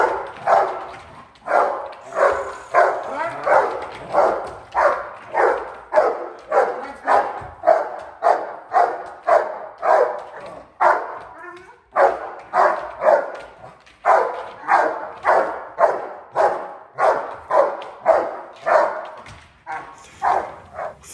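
A protection-training dog barks at a decoy, loud and close, firing off rapid bursts of sharp barks in a steady rhythm with brief pauses, continuing throughout.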